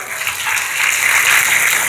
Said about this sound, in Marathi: यासाठी जोरदार एकदा टाळ्या वाजवा